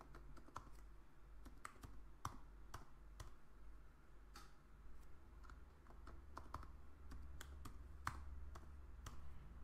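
A password being typed on a computer keyboard: faint, uneven key clicks and taps with irregular pauses, close and quiet throughout.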